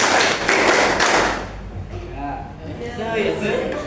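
Hands clap loudly in a counting game, a dense burst of close claps in the first second and a half, then sparser claps mixed with voices.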